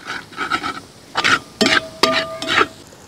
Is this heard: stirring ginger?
yes